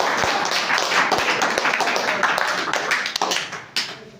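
An audience claps for a child, a loose, uneven patter of hands with a few sharp standout claps that thins toward the end, close by and loud.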